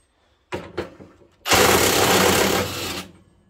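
Parkside Performance PASSP 20 Li A2 cordless impact wrench breaking loose a bolt torqued to 1000 Nm: two short bursts, then a loud, sustained hammering rattle lasting about a second and a half before it stops.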